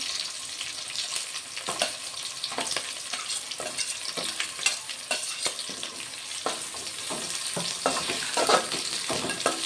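Carrots and mixed vegetables fry in a pan with a continuous close sizzle and frequent crackling pops, broken by the light scrape of stirring throughout.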